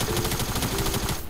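Rapid automatic gunfire in the Fortnite video game, a quick burst of closely spaced shots filling a brief moment, loud and close, with no talking.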